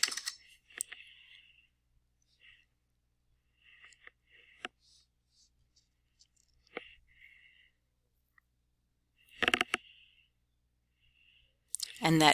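Scattered short bursts of clicky keystrokes on a computer keyboard while editing a form in Microsoft Word, quiet and intermittent with long pauses between clusters, and no talking.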